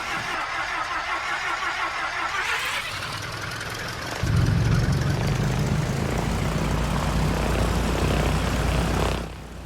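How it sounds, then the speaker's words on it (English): A Piper PA-38 propeller engine in the X-Plane 11 flight simulator cranks and catches, settling into a deeper, louder rumbling drone that holds steady before cutting off near the end. "I can tell you that the engine sounds are authentic."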